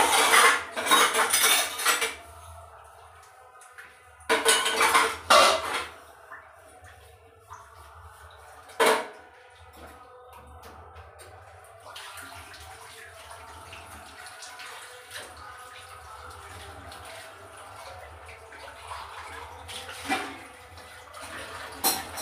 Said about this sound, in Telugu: మామూలుగా టిఫిన్ అయిపోయాక గిన్నెలు తోముకుంటానండి ఒకేసారి